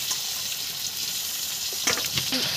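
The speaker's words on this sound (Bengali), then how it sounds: "এবার মাংসটা ঢেলে দেবো।" Chicken meat is tipped into a hot oiled pan, bringing a steady broadband sizzle with a brief clattering burst near the end, close and without talk.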